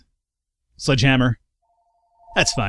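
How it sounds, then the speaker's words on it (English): A phone rings with a short electronic two-tone chirp, sounding faintly between and under a man's spoken phrases, close by. "Oh, that's my phone going off."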